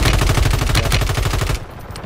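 Rapid automatic gunfire in the shooter game Warzone, a loud, close, continuous burst of shots lasting about a second and a half before it cuts off to near quiet.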